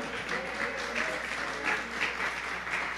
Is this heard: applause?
yes